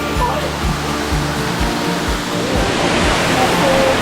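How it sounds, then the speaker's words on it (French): A waterfall in Laos roars with a steady, loud, close rush of falling water, and faint voices murmur beneath the continuous wash. "Bien arrivé à la cascade."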